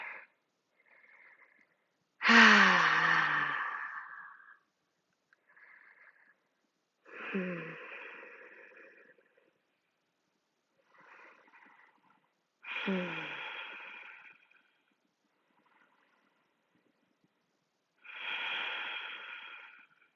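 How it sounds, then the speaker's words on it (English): Slow, deep breaths during a yoga stretch, heard up close as four long airy inhale-exhale cycles with quiet pauses between them. "We'll take a few breaths here."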